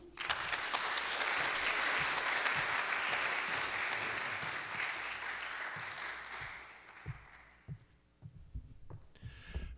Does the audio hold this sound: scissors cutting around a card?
no